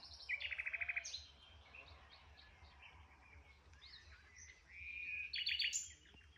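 Small songbirds, canaries, sing at a fishing spot in the morning: two bright, rapid trilled bursts near the start and end, with softer chirps between over low background hum.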